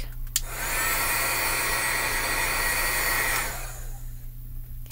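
A heat tool dries and flattens the back of a Brusho-painted card, a loud steady blower whine starting after a click and running about three seconds before cutting off, leaving faint room hum.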